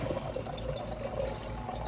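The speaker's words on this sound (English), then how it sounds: "You can hear the water going in." Water filling and draining through a small homemade portable water softener packed with resin, a steady close trickle and rush of liquid running continuously without pause.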